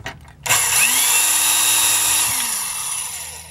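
A drill with a depth stop set to 3/16 inch bores into the metal base of a Hot Wheels Audi Quattro toy car, spinning up sharply, whining steadily for about two seconds, then winding down, loud and close.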